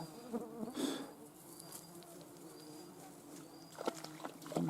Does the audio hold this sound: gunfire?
no